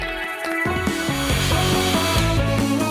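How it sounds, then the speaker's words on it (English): An immersion blender churns a large batch of soft caramel for a giant homemade Mars bar, a continuous motor whir whose pitch wavers and shifts as it works through the thick mixture. "we're going to hit it with an immersion blender so that it's perfectly smooth"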